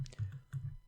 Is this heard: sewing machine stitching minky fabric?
no